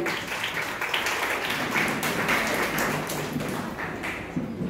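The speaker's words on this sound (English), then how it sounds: "Please give a big round of applause." Applause from an audience at a school foundation day celebration, a soft, steady patter of many hands clapping at a distance, even throughout with no talk over it.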